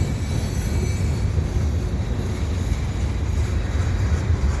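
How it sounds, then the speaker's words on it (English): A CP freight train backs up slowly at Lachine in winter, giving off a continuous low rail rumble at an even, moderate level, with no talking. "Slowly but surely moving itself back."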